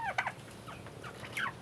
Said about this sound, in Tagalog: ito yung pangalawang pabo natin, ito yung pangalawang hen